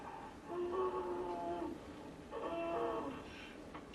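The TARDIS from Doctor Who dematerializing: a wheezing, groaning, rising-and-falling mechanical tone in two swelling phrases, fairly loud and alone with no talk.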